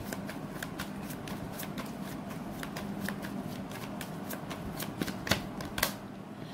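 Tarot cards being shuffled by hand, a rapid run of crisp riffling flicks heard close and steady, with a few louder snaps near the end and no talk.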